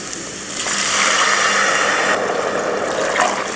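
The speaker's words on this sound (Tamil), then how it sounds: "இப்போ இதுக்கு தண்ணி சேர்த்துடலாம்." Water pours into a pan of rava (semolina) on the stove, a steady close hissing splash that starts suddenly and runs continuously for several seconds without talking.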